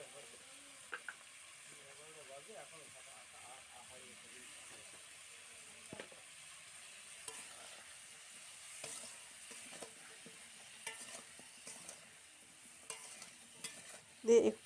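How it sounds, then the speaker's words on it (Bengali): Drumstick stalks and potatoes frying in a pan give a steady low sizzle, broken by scattered clicks and scrapes of stirring, with brief bumps of handling near the end. "দিয়ে একটু ভালো করে ভাজা করে নেব ডাঁটা আলুগুলো"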